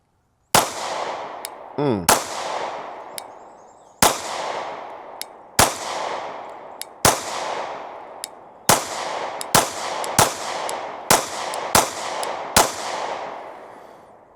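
A Derya DY9Z shotgun fires about a dozen sharp, loud blasts at uneven intervals, each followed by a short ringing decay, with metallic clinks between some shots.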